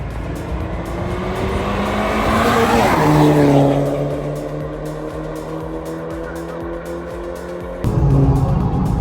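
A turbocharged BMW with an M62B44 V8 pulls away at a street racing meet, its engine note climbing under load and tires briefly squealing, then the tone steadies and fades before a second rev surges near the end; no talking.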